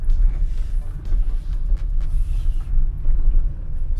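Low engine rumble and road noise from inside a Nissan Micra K11 as it drives along, a steady droning hum with faint tire noise and no clear speech.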